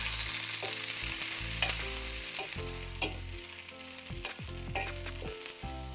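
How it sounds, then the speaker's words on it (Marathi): Garlic and green chillies fry in a little oil on a griddle, a loud, close, steady sizzle broken by repeated scraping and stirring strokes of a spatula. "त्यावर टाकूया लसूण, परतून घेऊ थोडंसं आपण।"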